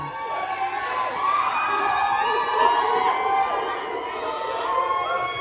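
A crowd at a critique session cheers and whoops for a performer, a continuous mix of excited shouts and voices at moderate loudness lasting the whole stretch, with some talk blended in.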